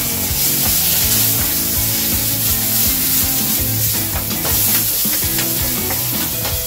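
Instant yakisoba and extra ingredients stir-fried in a pan: a steady, close sizzle runs throughout, with scraping stirs and clatter layered over it and no voices.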